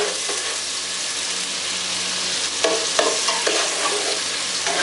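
Butter sizzles and fries in a pan while being stirred, a steady hiss with scraping utensil strokes growing busier toward the end, no talking.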